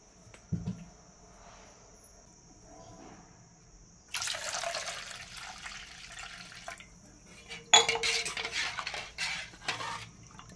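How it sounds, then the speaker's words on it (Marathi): Quiet kitchen with a couple of clinks, then water splashing into a bowl in two short bursts for making solkadhi, near and moderately loud. "आता यामध्ये थोडं पाणी ॲड करूया."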